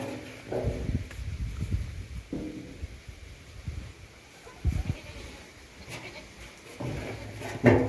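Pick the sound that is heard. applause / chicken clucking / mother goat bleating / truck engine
mother goat bleating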